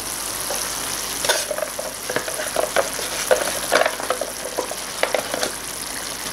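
Ground meat for a Filipino-style spaghetti sauce sizzles steadily in a pan while being stirred, with soft scraping and clicking stir strokes rising over the continuous frying hiss; no one talks.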